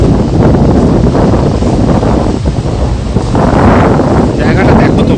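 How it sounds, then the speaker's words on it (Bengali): Sea waves surge onto Mandarmani beach as the tide comes in, their broad continuous roar mixed with heavy wind buffeting the microphone, loud and close throughout. "এখন জোয়ার আসছে, তাই সমুদ্র অনেকটা এগিয়ে এসছে।"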